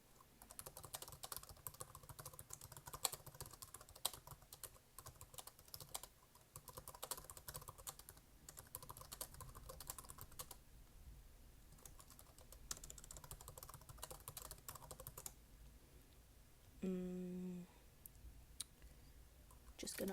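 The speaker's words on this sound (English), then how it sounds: "sorry guys if you can hear the typing" Rapid clicking of computer keys in bursts, fairly quiet and close, with pauses between runs and a brief low hum near the end.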